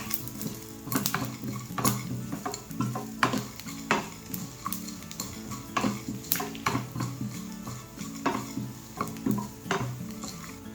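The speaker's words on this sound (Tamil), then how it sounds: "சோம்பு, கொரியண்டர் சீட்ஸ், தனியா, கடுகு, எல்லாமே வந்து வறுத்து எடுத்துக்கணும்." Fennel, coriander seeds and mustard seeds dry roasting in a pan, stirred with a spoon that scrapes and clinks against the metal in a steady repeating rhythm, with soft crackling between strokes and no voices.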